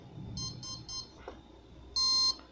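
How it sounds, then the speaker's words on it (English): Brushless drone motor emitting three short high-pitched beeps after ESC calibration, evenly spaced and fairly close, followed by a longer, louder tone, over a quiet background hum. "as you hear the sound from motor, it's a beep 3 times"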